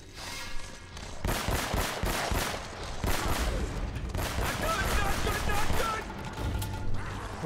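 Rapid, dense gunfire during a running gunfight in Uncharted: Drake's Fortune, bursts of automatic shots packed together with mechanical clatter, loud and continuous throughout.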